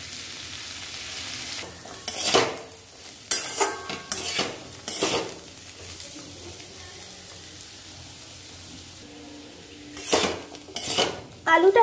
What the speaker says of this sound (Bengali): এবার আলুটাকে ভালো মতো ভাজা ভাজা করে নেব